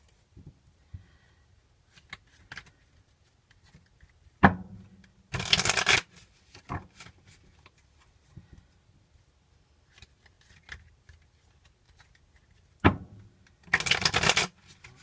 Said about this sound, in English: I'm going to shuffle the Osho Zen Tarot.